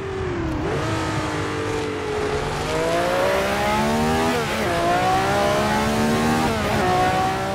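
A race car engine roars in a RaceDepartment racing sim, loud and steady, climbing through the revs with a few quick dips at gear shifts before it pulls up again.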